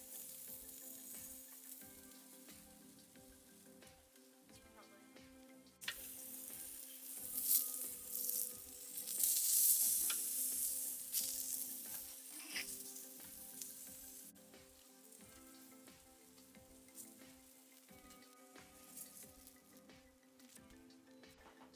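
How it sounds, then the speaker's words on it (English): Zucchini cooking on a barbecue grill gives a continuous soft sizzle with scattered crackles, swelling louder midway and then settling back down. "here we are cooking our zucchini on the barbecue"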